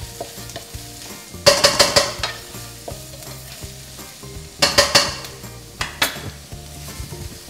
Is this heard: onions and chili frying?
yes